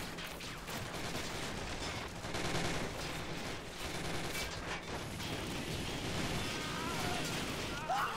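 Sustained gunfire and flamethrower blasts from a Men of War Planetside 2 mod battle, a dense continuous roar of shots and burning bursts that fills the whole stretch at steady loudness.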